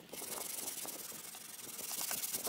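Steady, raspy scratching of sandpaper rubbed back and forth over wood, close and continuous with rhythmic strokes.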